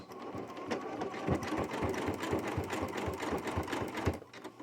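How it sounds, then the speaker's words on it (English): A sewing machine stitches fabric strips for a jelly roll rug, giving a fast, even mechanical chatter of repeated needle strokes, close and steady throughout. "I'm going to actually push this down and together as I begin to sew."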